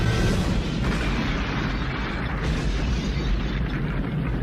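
A store blows up in a film explosion scene, and a dense, sustained roar of blast and burning rumble fills the whole stretch at steady loudness with no talk.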